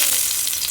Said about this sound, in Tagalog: Magpipirito tayo ng patatas.